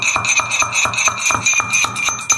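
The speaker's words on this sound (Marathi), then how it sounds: "तर आता आपल्याला ही वेलची सोलून आपल्याला खलबत्त्यात कुटून घ्यायची आहे।" Cardamom being pounded in a mortar and pestle, a steady rhythm of sharp, close thuds with a ringing metallic tone, about four strikes per second, loud and alone.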